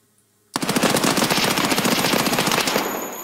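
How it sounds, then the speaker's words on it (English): Automatic fire from a Kedr submachine gun in Escape from Tarkov, one continuous rapid burst that starts abruptly and runs about three seconds, loud and close, with no talk. "I'm gonna also show you what happens if you shoot it far away."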